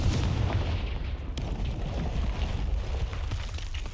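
The Confringo fire spell in Hogwarts Legacy goes off as a loud booming blast that opens the clip, then a rumbling, crackling decay tails away with no talk.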